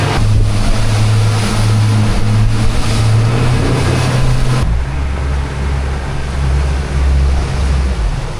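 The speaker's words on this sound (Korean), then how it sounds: "DHO 보트 타고 나가기로 했습니다" A dhow boat motor drones steadily on a rough, windy lake in Malawi, beneath a constant rush of wind and choppy water, loud and close, with the engine pitch dropping midway.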